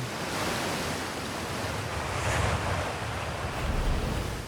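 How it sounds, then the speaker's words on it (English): Waterfall in the Outer Wilds video game, a steady broadband rush of falling water that roars continuously and fairly loud with slight swells, no voices over it. "Waterfall."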